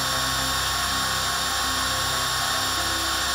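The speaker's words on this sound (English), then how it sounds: "so now I can drill." A small drill whirs steadily and continuously into Supawood board, a high-pitched motor hum with no pauses and no talking.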